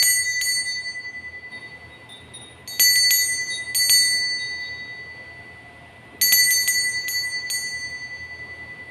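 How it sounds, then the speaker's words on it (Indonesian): A small bell rings out to open a tarot reading, a few bright metallic strikes in clusters with long ringing tails, separated by quieter pauses over a soft background hum. "di sini saya akan memulai dengan ditandai lonceng berbunyi."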